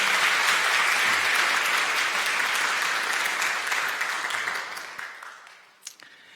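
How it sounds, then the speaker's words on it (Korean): A church congregation at a Sunday service claps in welcome, a dense steady wash of applause that holds loud for several seconds, then thins out and fades, ending with a single late clap. "여러분들 환영의 박수 부탁드리겠습니다."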